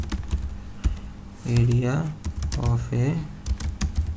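Keys tapped on a computer keyboard while entering C code, with sharp clicks scattered through the clip and a voice speaking over the middle section.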